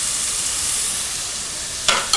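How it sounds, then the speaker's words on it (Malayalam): Onions sauté in a pan for a chicken and capsicum curry, giving a steady, close sizzle and hiss throughout, with a couple of brief stirring scrapes near the end. "സവാള വഴറ്റുന്ന സമയത്ത് നമുക്ക് അതിലേക്ക് അല്പം ഉപ്പും കൂടെ ചേർക്കാം."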